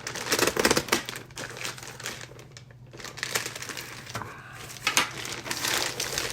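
Crinkling and tearing sounds come from cutting open the plastic packaging of a stage of a 1966 Batmobile model kit, made up of close, irregular bursts with a brief pause midway and no talking.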